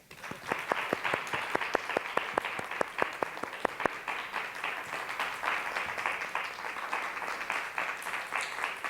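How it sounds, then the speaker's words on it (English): An audience in a performance house applauds, starting with distinct sharp claps at a quick rhythm that thicken into a steady wash of clapping, fairly faint and distant, with no speech. "And could we get a round of applause just for Mark?"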